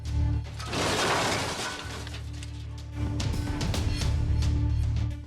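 A car crash on a road at night: a loud smashing impact with shattering debris, followed by a low rumbling engine or road noise that continues steadily after the hit.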